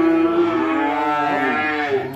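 At a cattle farm, a cow moos loudly nearby, one long drawn-out, sliding low bellow that fills the moment.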